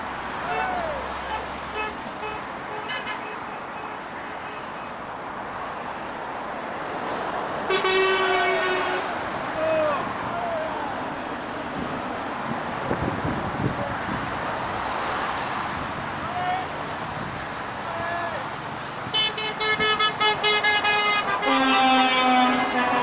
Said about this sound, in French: soutien, toujours, par les klaxons